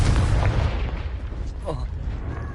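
Confringo blasting spell explosion in the game Hogwarts Legacy, a loud, heavy boom with a rumbling low-frequency tail that gradually fades, followed by faint whooshing magical effects.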